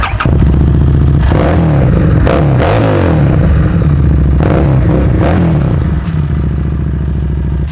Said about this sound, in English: it's been upgraded to a Vance & Hines exhaust, so it makes a beautiful sound